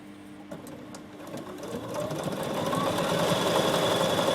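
A Bernina 7 Series sewing machine stitches a straight line, starting with a few quiet clicks before settling into a steady, fast mechanical whir that grows louder and holds close by, with no talking.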